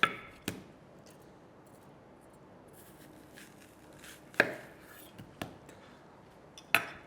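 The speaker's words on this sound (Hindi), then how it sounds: "अब इसके यूं हम राउंडल्स काटेंगे ऐसे एंड ऐसे।" A knife slices a watermelon into rounds on a cutting board. It gives a few sharp, separate thunks spaced several seconds apart, close by, with no talking.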